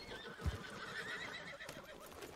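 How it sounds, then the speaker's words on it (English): A called horse in a video game neighs and comes galloping in, with a loud whinny followed by a run of quick clip-clopping hooves nearby, under a faint background hum. "That was my horse that I just called."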